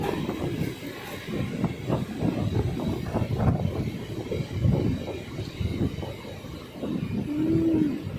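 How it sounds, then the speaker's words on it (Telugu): A MEMU inter-city train pulling into platform 3 at Dwarapudi railway station, with a steady rumble of rolling wheels and wind across the microphone, plus a low horn-like tone near the end. "మన train Dwarapudi railway station platform number 3 మీదకి అయితే వచ్చిందండి"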